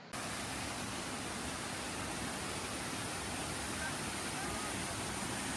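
Ulupponi waterfall in Vagamon, a steady, loud broadband rush of falling water that continues unbroken through the whole stretch, with no talk over it.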